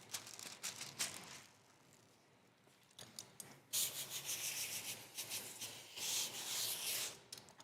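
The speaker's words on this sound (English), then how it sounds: "Just a 1-inch razor blade scraper." A 1-inch razor blade scraper rasps across window tint film on a Hyundai Ioniq, in short quiet strokes and then longer, louder scraping passes, up close with no talking.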